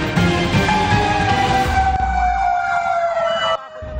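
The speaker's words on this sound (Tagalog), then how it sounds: "Sunod-sunod ang pagresponde ng mga fire truck sa bahaging ito ng Barangay Tandang Sora, Quezon City." A fire truck siren wails loudly in a street in Barangay Tandang Sora, Quezon City, its pitch sliding steadily downward over a rumbling engine, then cutting off abruptly near the end.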